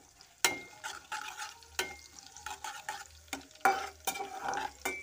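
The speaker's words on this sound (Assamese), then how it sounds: "এতিয়া এইখিনি ভালকৈ মই ভাজি ল'ম।" Garlic and other ingredients for a green coriander chutney fry in a kadai, with repeated scraping stirs, close and fairly loud, over a soft continuous sizzle.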